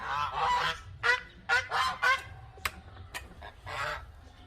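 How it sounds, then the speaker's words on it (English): Several loud, harsh African goose honks in irregular bursts, close by, with a few shorter calls between and no talking. "those are my African geese"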